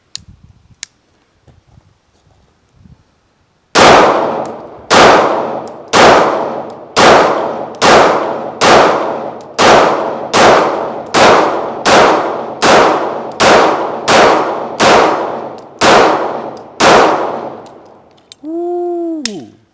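Staccato CS pistol fired at an outdoor range, about sixteen loud, evenly spaced shots in rapid succession, each ringing with a bright metallic clang from steel targets, a brief faint ring trailing at the end.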